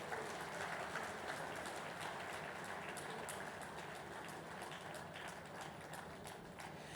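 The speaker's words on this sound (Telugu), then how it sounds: "చప్పట్లు కొట్టండి మరి" A crowd at a millet-diet lecture by Dr. Khader Vali applauds. Many hands clap in a dense, steady wash that is faint and distant and holds evenly for several seconds.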